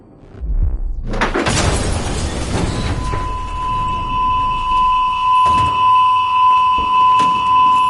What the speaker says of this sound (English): Deactivate the alarm.